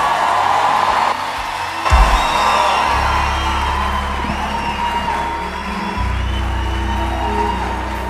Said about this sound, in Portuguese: eu quero que você receba com uma salva de palmas